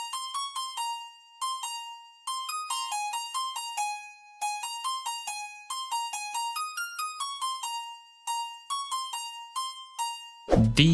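Bright synth harp notes from the Xenology sound set play a quick, rhythmic plucked pattern in a new wave pluggnb beat, loud and steady, ending in a brief burst of noise.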